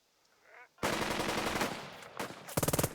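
A squad in Burden of Command opens fire: after a faint voice, a loud sustained burst of rifle and machine-gun fire erupts, pauses briefly, then returns with a final rapid stutter of close automatic shots.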